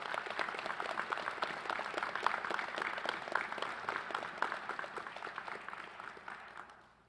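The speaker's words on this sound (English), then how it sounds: "Please join me in giving these individuals a round of applause." Audience applause at a police academy graduation ceremony, a dense steady patter of many hands clapping at moderate volume that gradually thins and fades toward the end.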